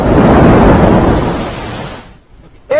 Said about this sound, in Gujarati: ગાજવીજ સાથે વરસાદ પડી રહ્યો છે